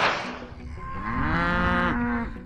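Cattle on a ranch raising grass-fed beef give one long, loud moo that swells and bends in pitch, close by and carrying on for about two seconds with no talking over it.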